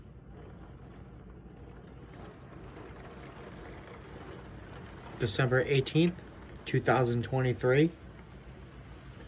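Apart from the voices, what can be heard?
heavy rain and wind at night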